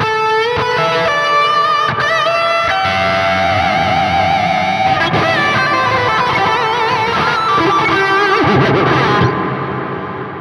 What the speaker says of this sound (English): Yeah, delay and reverb that goes on for ages.